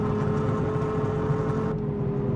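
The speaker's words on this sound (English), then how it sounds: "Look at the backfire from this thing." Simulated car engine in Gran Turismo 5 drones steadily at mid revs with a constant tonal hum, easing off near the end as on a downshift; no distinct backfire pops stand out.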